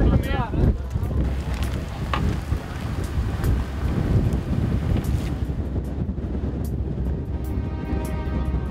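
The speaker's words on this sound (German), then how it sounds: "Super windig hier, da hinten kommt auch schon jede Menge Sand auf uns zu." Strong outback wind roars loud and steady across the microphone with blowing sand, gusting constantly for the whole stretch.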